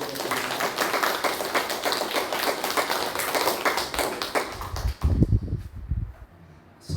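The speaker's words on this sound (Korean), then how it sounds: "하나님께 영광의 박수를 드리겠습니다." Congregation at a Sunday church worship service breaking into sustained applause, a crowd of hands beating densely and steadily for several seconds before fading out, followed by a brief low rumble and quiet.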